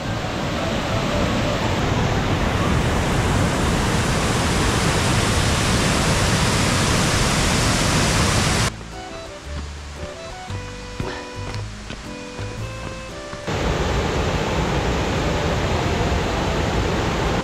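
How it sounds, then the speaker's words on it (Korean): A powerful two-tiered waterfall on Bangtaesan mountain roars as a loud, steady broadband rush, briefly dropping away mid-way before the full wash of falling water returns. "웅장한 폭포 보세요."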